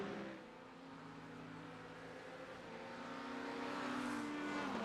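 A Porsche and a Corvette race at Daytona in iRacing, their engines a steady, faint droning whine that swells slightly as the cars hold speed, with no talking.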